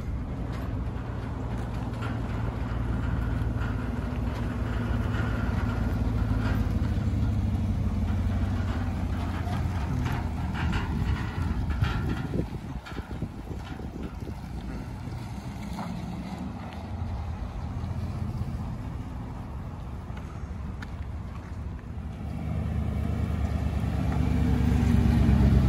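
A vehicle rolls over rough ground into a speedway, a continuous low rumbling drone with bumps and rattles, steady and fairly loud throughout with wind buffeting, no talking.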